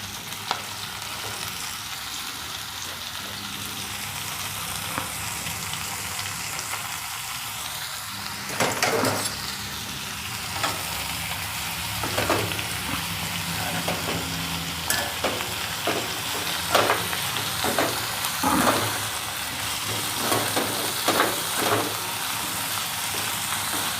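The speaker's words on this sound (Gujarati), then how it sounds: "આપણું તેલ ગરમ થઈ ગયું છે, એમાં આપણે પાલકને નાખી દેવાનું।" Spinach frying in hot oil in a pan for a palak paneer paratha filling, a steady close sizzle broken by sharp crackles and the scrape of stirring, growing busier toward the end, with no talk.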